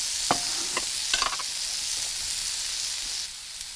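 Marinated tempeh steaks fry in a pan with a steady, close hiss of sizzling oil, broken early on by a few sharp pops and clicks of stirring or turning.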